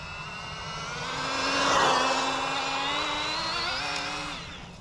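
An Arrma Vendetta RC car at full throttle gives a rising, whining electric motor sweep that swells and holds for several seconds at moderate distance.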